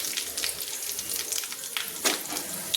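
Dried red chillies and black mustard seeds sizzle and spit in hot oil, a steady close-up crackle with a few sharper pops near the end, no voices.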